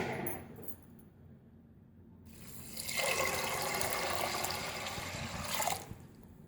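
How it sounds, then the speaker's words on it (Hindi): Water pours steadily into a metal pressure cooker holding chana dal, a broad rushing gush that starts after a quiet moment and runs for a few seconds before cutting off. "अब पानी शामिल करेंगे।"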